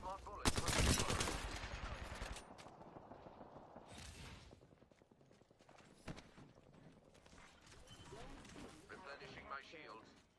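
Mad Maggie's smart bullet firing in a video game, a loud burst of rapid gunfire up front followed by scattered shots and clattering effects, with a voice speaking over the action.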